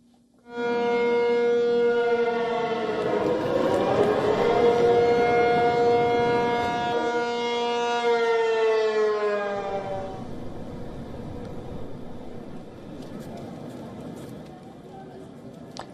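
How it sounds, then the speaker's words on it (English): Air raid sirens wail across Taipei during a civil defense drill, one long loud rising and sustained tone with a steady harmonic drone that holds and then slowly drops away, with faint background noise. "deafening air raid sirens wailing across the city of Taipei"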